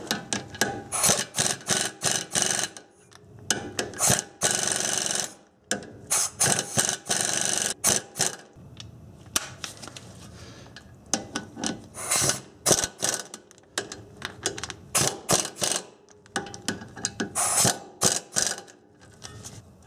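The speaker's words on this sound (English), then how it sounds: "don't worry about the torque when you're tightening the bolts down to pull the bearing in" A hand ratchet tightens brake hub bolts on a 1990s Honda Accord during a captive rotor and hub bearing job, giving close, rapid clicking bursts in irregular strokes with short pauses between them.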